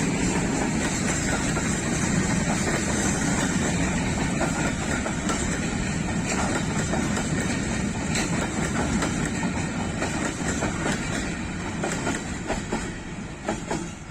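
A Pakistan Railways goods train with an oil tanker wagon rolls past in Rawalpindi, a loud, continuous rumble of wagons with rhythmic clickety-clack from the wheels over rail joints, sustained from start to finish and fading slightly at the end.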